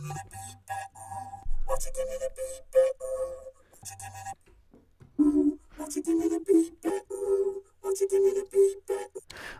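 A voice processed through an EVOC 20 vocoder with FM synthesis comes out as rich, inharmonic metallic tones in short, choppy phrases that follow the rhythm of speech, with brief gaps between them.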